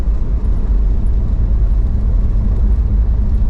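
A loud, low big-block engine of a 1962 Plymouth Belvedere with a manual stick shift drones steadily up close, a deep throbbing rumble with little change in pitch.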